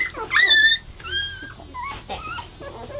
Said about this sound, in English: anybody in the Ozarks who wants some livestock guardian dogs, we have them